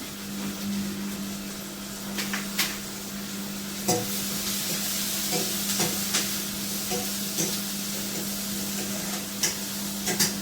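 Cinnamon and cardamom frying in a pan while being stirred, a continuous sizzle with repeated scraping clicks of the spoon and a low steady hum underneath, no talking.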